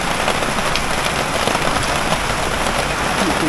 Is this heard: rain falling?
yes